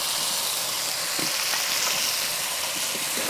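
Vegetables for a prawn momo filling, chopped carrot, egg and green peas, sizzle steadily in a pan while being stirred, a close, even frying hiss with occasional scraping touches.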